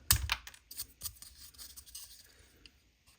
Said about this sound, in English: I'm just going to run the knife through it and cut it out